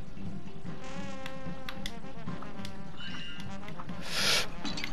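Insistent buzzing of bees in the Cuphead video game, a steady droning whine with layered wingbeat tones swarming close, punctuated by sharp game effects and a bright hiss burst near the end.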